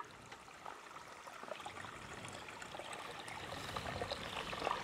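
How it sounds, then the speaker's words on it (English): Clear water from a small stream runs across a dirt road in the wild, a soft continuous trickling and babbling that stays faint and close, growing slightly fuller toward the end. "Nice stream running across the road"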